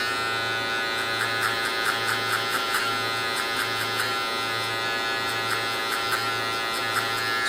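Electric hair clippers buzz steadily at close range while tapering hair during a mid taper haircut, the hum constant with light rhythmic crackles as the blade passes through hair, no talking.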